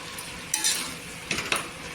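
Carrot halwa mixed with mawa in a pan, heard as a few quick spoon scrapes and clinks over a soft background sizzle, with two or three sharper stirring bursts.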